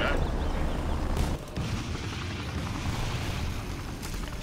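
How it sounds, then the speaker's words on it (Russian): Artillery salvo in the real-time strategy game Rise of the Reds, heard as a dense, continuous roar of rumbling fire and booms with a brief dip in the middle. "Еще один залп даем сейчас."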